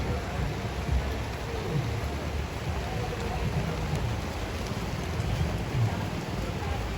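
Drizzle falling outdoors, a steady, even hiss of fine rain that holds through the whole stretch with no talk over it.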